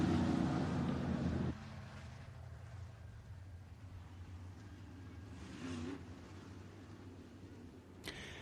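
IMCA race cars idle and roll slowly around Boone Speedway in Boone, Iowa, under caution during a heat race, a faint, distant low engine drone with a brief rise in the middle.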